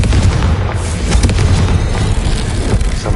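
A Confringo spell explosion in the video game Hogwarts Legacy, a loud, sustained booming rumble with crackling bursts layered throughout, heavy in the low end.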